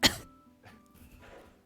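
A single sharp cough, loud and close, followed by faint quiet noise.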